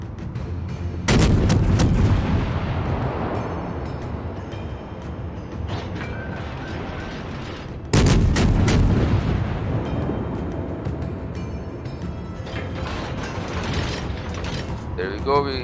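Guns of the Japanese light cruiser Tenryū in World of Warships fire in two loud, booming salvos several seconds apart, each trailing off into a rumble over mechanical clatter from the game.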